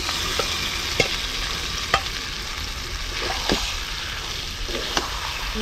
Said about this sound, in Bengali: এখন ম্যারিনেট করা মাংসটা দিয়ে দিতেছি।